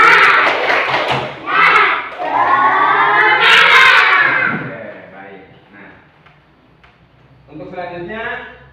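Classroom of students at an Islamic studies lesson performing a rhythmic clapping chant together, loud group voices shouting in unison with claps, a pause, then a final burst.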